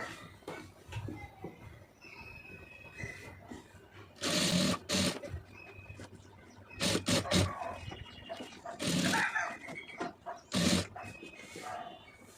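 Sewing machine stitching piping along a fabric edge, running in several loud bursts of rapid stitching separated by short pauses, close to the microphone.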